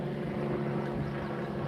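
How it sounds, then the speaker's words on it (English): An IU Health care flight medical helicopter passes overhead, a loud, steady rotor and engine drone heard from near a road while fishing, with no talk over it. "That's a helicopter. IU Health helicopter."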